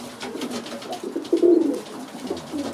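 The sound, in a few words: young pigeons cooing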